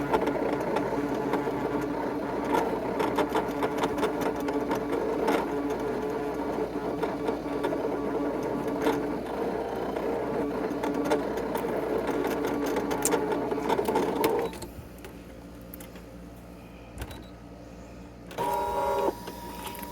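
Fast, rattling mechanical whir of a Brother ScanNCut CM350 cutting machine cutting 7 mil mylar, running continuously, then dropping to a quieter hum with a brief burst of motor noise near the end.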